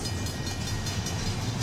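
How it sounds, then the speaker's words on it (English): Canadian National 9638 freight train pulling out through Effingham, Illinois: a steady, close rumbling roar of rolling railcars with a continuous low drone and faint rhythmic clatter, and no voices. "At 5:10 p.m. Central Daylight Time, this train started to take out."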